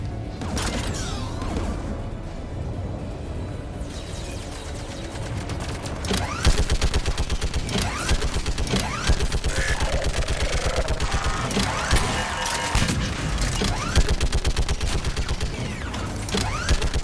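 Gunfire from a mounted gun in the Mass Effect 3 video game, a dense, continuous fusillade of rapid shots with mechanical clanks over a rumbling battle ambience, growing louder and more intense partway through.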